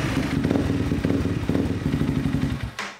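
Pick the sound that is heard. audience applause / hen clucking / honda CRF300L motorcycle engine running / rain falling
honda CRF300L motorcycle engine running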